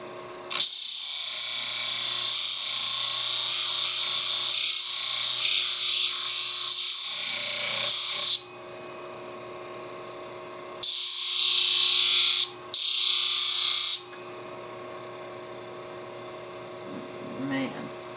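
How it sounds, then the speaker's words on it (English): A bench grinder reshapes the outside of a Bonika shears blade in one long, loud, harsh grinding pass, followed after a pause by two shorter bursts, with quiet workshop hum between them. "I'm just reshaping the outside of the blade at this point."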